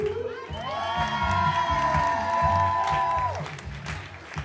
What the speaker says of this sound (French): je vous demande de faire un tonnerre d'applaudissements pour vous-même